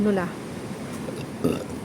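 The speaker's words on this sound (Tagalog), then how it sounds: "Kaya yan, nag-burp na tuloy ako." A woman on foot on her way to a market lets out a short burp right at the start, and a second brief one follows near the end, both close and under a low background hum.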